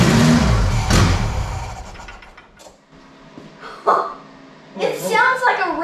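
A Ford Pinto cruising wagon with a swapped 2.3 EFI engine cranks and catches with a loud burst, then revs unevenly in short surges that fade and return, with people talking nearby.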